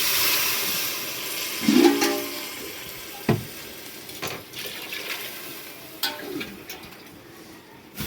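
Water splashes and pours into a pot for cooking rice with a steady wash of liquid noise, broken by a few clanks of metal.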